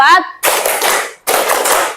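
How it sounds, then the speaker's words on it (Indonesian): Two long bursts of many students clapping together in a school class, loud and close, separated by a short pause, after a brief voice at the start. "Tepuk 1, tepuk 2, tepuk 3, tepuk 4"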